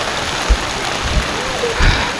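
Rain falls outdoors at a lakeside crab-fishing outing, a steady broadband wash with a few low thumps, while people talk in the background.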